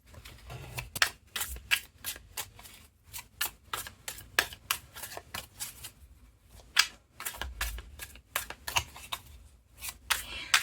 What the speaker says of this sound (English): what I'm going to do now is pull cards for the little spread